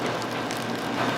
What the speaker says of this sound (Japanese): 温度差でこういう皮がパリパリって弾けて、その弾けた音がこうパチパチパチパチ